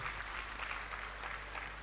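Audience applause at a Gujarati stage programme, a soft, steady patter of many hands clapping, heard at a distance and fairly faint throughout.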